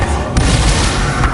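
A fire spell blast from Incendio in the video game Hogwarts Legacy: a loud, dense burst with a booming low rumble that holds steady through the short moment.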